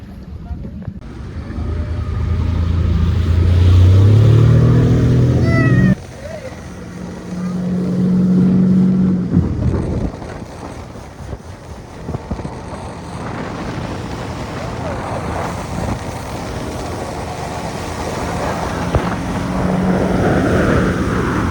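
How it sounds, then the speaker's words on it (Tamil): A speedboat ride on the Alappuzha backwaters, with a loud motor drone rising and falling alongside rushing wind buffeting the microphone, while people talk intermittently. "ஸ்பீட் போட்டில் கிளம்புறோம்."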